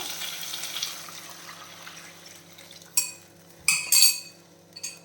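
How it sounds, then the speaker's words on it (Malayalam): A spoon stirs chickpea flour batter for Bombay chutney and it is added to a pan, soft scraping and liquid movement followed by a few sharp metallic clinks of spoon against cookware near the end. "ഒന്നുകൂടെ സ്പൂൺ വെച്ച് നല്ലപോലെ ഇളക്കിയിട്ട് ചേർത്ത് കൊടുക്കാം"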